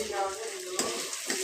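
Tomato chicken curry with turmeric being stirred in a sizzling pan, a steady bright fry hiss with a few scraping strokes, close and fairly loud.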